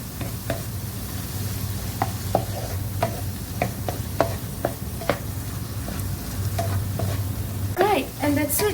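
Mushrooms sizzle in melted butter in a pan, a steady close frying hiss broken by repeated scraping stirs and soft utensil taps against the pan.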